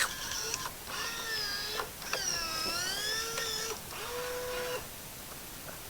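A hand-operated cigarette making machine compacts and fills tobacco with a strained mechanical whine that rises and falls in several drawn-out pulses, close and fairly loud, with no talking.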